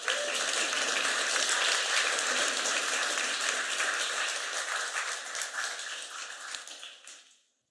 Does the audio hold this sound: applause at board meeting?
yes